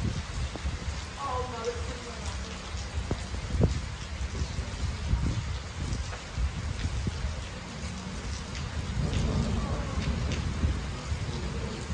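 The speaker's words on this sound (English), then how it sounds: "I don't mind rain, you know, I love the rain." Steady heavy rain pours down outdoors, a dense continuous hiss with occasional louder patters, while people talk nearby; no distinct thunder stands out.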